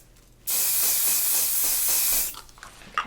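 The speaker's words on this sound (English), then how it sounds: "I'm just going to spray just those two curls" A single continuous aerosol spray hisses for about two seconds, close and steady, then cuts off, leaving quiet room noise.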